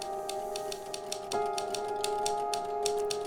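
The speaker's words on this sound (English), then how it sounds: "Oh, I hear Dan typing." Typewriter keys clacking in The Novelist video game, a steady run of sharp strikes at a quick even rhythm over a constant low hum, moderately loud and alone.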